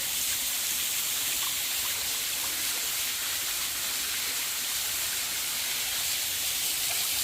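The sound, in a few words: spring water flowing from rock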